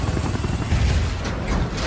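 Helicopter flying in a film action scene, a loud, close, dense rotor roar that fills the whole moment without pause.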